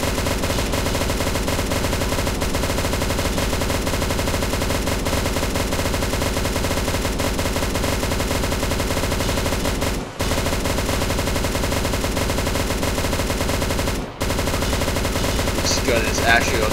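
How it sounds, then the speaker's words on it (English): Automatic gunfire in the Roblox game Riot Control Simulator: a dense, continuous stream of rapid shots, loud and close, broken by two very short pauses. "This gun is actually automatic."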